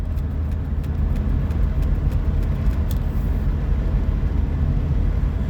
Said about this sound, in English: Here's someone passing a car.